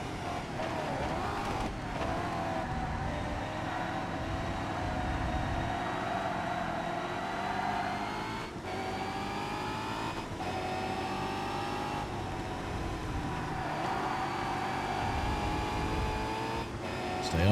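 DTM touring race car engine in the ToCA Race Driver 3 video game, a steady loud high-revving drone with gear-shift dips and rising pitch sweeps, occasional tire noise, continuous throughout.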